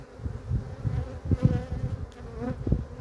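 Honey bees buzz steadily at an open beehive during a honey harvest, a close, continuous low drone with fluctuating wingbeat hum and no voices.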